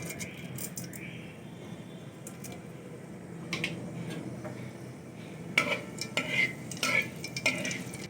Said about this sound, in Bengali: এখন একটু কালি জিরা আর মেথি দিয়ে দিচ্ছি